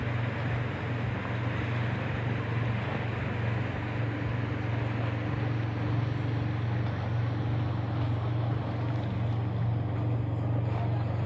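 A steady, droning motorboat engine hums close by and continuously on a lake, with a constant low rumble and no talking.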